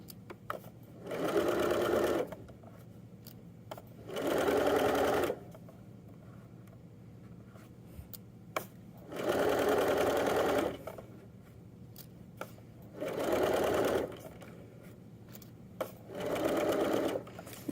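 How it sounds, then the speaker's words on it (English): A sewing machine stitches the waistband of a pair of joggers, running in five steady bursts of a couple of seconds each with quiet pauses between, close and clear with no talking. "I have my pants around the arm of this machine here so I don't sew where I don't want to by"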